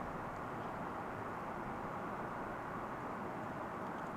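A steady, broadband roar from an airplane coming in to land at DFW International Airport, east side, continuous and moderately distant with no talk over it.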